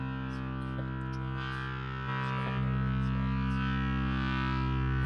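A sustained synth drone for a dungeon synth pad in Ableton, run through a bass distortion effect, giving a thick, buzzing, harmonically dense tone that holds steady and swells slightly midway.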